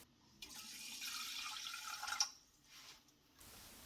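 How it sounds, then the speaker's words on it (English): Cold water poured into a saucepan holding jasmine rice, a steady close splashing pour lasting about two seconds, then tapering into faint drips and quiet settling. "Add 190 ml of cold water"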